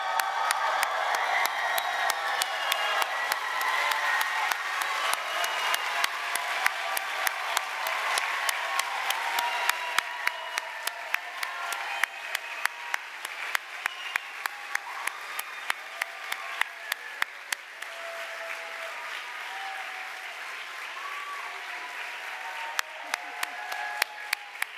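A large audience at a medical school white coat ceremony stands and applauds the incoming class, a long sustained wave of clapping that gradually thins into scattered claps toward the end.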